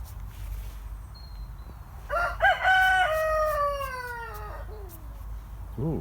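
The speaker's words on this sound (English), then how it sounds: "Got our friendly cockerels in again." A single cockerel crows loudly and clearly, a long drawn-out call rising and falling over quiet background hiss, with another call starting at the end.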